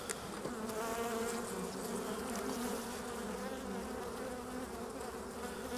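Honeybees at an open hive whose colony is dying and very low on bee numbers, giving a continuous, faint buzzing drone with no talk over it.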